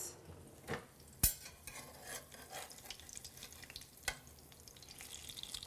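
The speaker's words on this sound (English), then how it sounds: "Let me grab a spatula to flip this." A spatula scrapes and flips browning food in a pan, with quiet sizzling beneath a few sharp metallic clicks and scrapes, faint and close with no talk.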